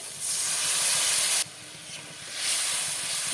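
Water poured onto hot fried masala and tomatoes for an amodi fish curry sets off a loud, close hissing sizzle that cuts off abruptly, then swells again in a second burst of steam.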